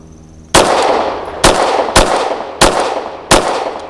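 Five sharp, loud pistol shots from a Canik TTI Combat fired at a range, each a hard crack with a decaying ring, spaced irregularly about half a second to a second apart, with no talking.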